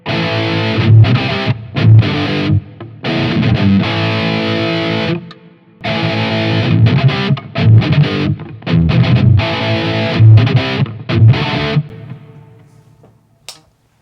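Aklot Lorien LP-style electric guitar played through a heavily distorted, dirty tone, loud chugging chords and riffs in bursts with short gaps, ending in a decaying ring.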